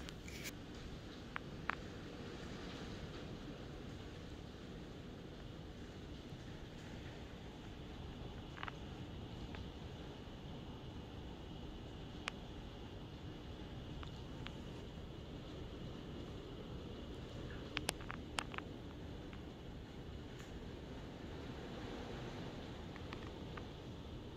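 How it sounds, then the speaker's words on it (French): Steady broadband wind roar with a dense wash of rainfall beneath it, continuous and fairly loud, broken by a few sharp ticks and knocks. "Écoutez le vent, la pluie, c'était vraiment intense."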